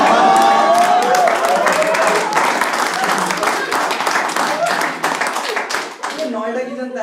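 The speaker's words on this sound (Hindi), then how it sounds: "नोएडा की जनता है जो ताली मार रही है।" Audience at a stand-up comedy show in Noida claps in a loud, sustained burst of applause that fades toward the end, with scattered cheers and the comedian's voice coming in at the close.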